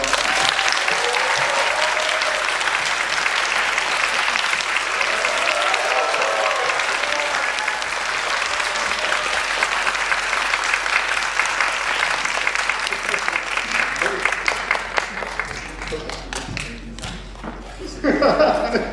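A large audience at a film festival talk in Korea gives sustained, loud applause welcoming the director and actor on stage, a dense wash of clapping that continues steadily before thinning out toward the end.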